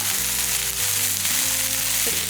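Ivy gourd (kovakkai) sautéing in a pan gives a steady, close sizzle of frying throughout, with no voices.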